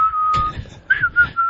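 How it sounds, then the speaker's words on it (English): A person whistles a few sustained and warbling notes, close and clear, with brief pauses between phrases and faint room noise beneath. "That's whistling."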